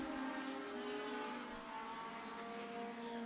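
A NASCAR Weekly Series race car roars steadily down the front straightaway at Tucson Speedway, its engine a continuous, fairly distant drone at constant throttle with no talk.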